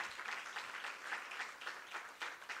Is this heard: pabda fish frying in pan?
no